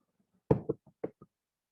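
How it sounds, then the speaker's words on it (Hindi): A hand knocks on a door, four or five quick raps in an uneven pattern, close and clear against silence. "दरवाजे पे दस्तक हो रही है"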